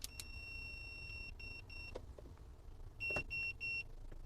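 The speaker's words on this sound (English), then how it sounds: "if during the arming period the sensor detects something within 30 centimeters, there will be 3 consecutive beeps" Three electronic beeps, then a short pause and a run of bright, even tones repeating, from an airsoft M2 SLAM mine signalling an obstruction in front of its sensor, close and clear over quiet background noise.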